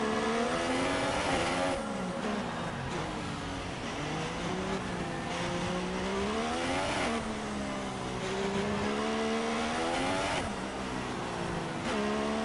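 An F1 race car engine from the game F1 2016 wails continuously around Monaco, loud and close, its pitch climbing and dropping repeatedly through gear changes and corners with no talk.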